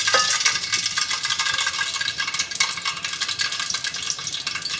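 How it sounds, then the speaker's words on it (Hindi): Two spoonfuls of ghee going into a hot pan for aloo keema, with a steady, loud sizzling hiss that stays continuous throughout, no talking. "ये वाले 2 चम्मच हम इसमें घी के ऐड करेंगे।"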